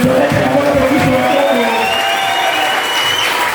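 A church congregation cheers and acclaims the Lord, a loud continuous roar of shouting, whoops and applause that fills the space from start to finish.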